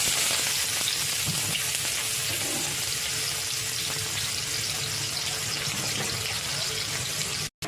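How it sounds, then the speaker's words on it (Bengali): Dried red chili, bay leaf and cumin crackle in hot oil for a Bengali katla fish head moong dal, a steady loud sizzle running unbroken through nearly the whole stretch before cutting off abruptly at the end. "শুকনো লঙ্কা, তেজপাতা, জিরে ফোড়নে দিয়েছি, এটা আমি ভাজা করছি, ভেজে নেব"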